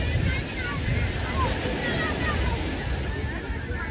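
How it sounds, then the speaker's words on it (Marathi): Continuous surf at Girgaon Chowpatty beach in Mumbai rolls in as a dense, steady wash of breaking waves, heavily mixed with wind rumble on the microphone and faint background voices. "अजून पण लाटा चालू आहे."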